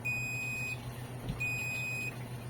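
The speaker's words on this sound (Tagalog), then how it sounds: "kapag tinapatan natin siya ng another ilaw is humihina yung ating buzzer" A thin, high-pitched electronic beep from an Arduino-driven piezo buzzer sounds twice, each tone held steadily for under a second, over a low steady hum.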